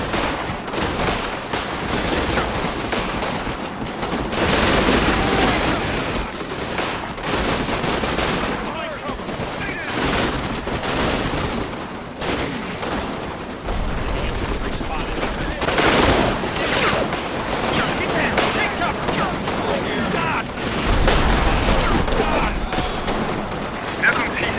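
Urban gunfire in the Combat Mission Battle for Normandy video game as fighting peaks in a town, with sustained bursts of rifle and machine-gun fire and heavy booms rolling on and off, dense and loud throughout.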